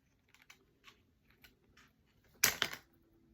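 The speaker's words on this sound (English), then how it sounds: "He's also cutting up my bank card" Quiet, sparse snips and clicks of scissors cutting through a stiff plastic bank card, followed by a louder crisp crunching cut, heard close and alone.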